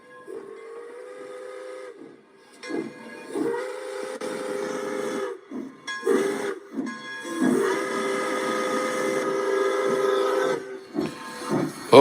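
Steam train blows long tonal whistle blasts, several sustained calls separated by short gaps and bursts of hissing steam, loud and fairly close.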